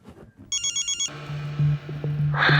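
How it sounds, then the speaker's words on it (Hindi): A telephone rings with a bright electronic trill, a short burst of repeated pulses followed by a sustained tone, fairly close and clear with no talk over it. "जब देखो फोन ही आते रहते हैं"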